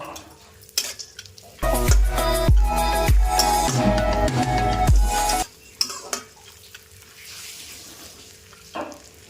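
Cashews and raisins fry in a pan for semiya payasam, a loud sizzle with a spoon scraping and stirring close by, then the frying fades to quieter clinks.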